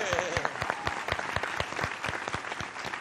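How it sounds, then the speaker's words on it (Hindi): A television studio audience at an Eid special comedy show breaks into applause, a brisk, even patter of many hands clapping close by for a few seconds. "उसके लिए बहुत सारी तालियां।"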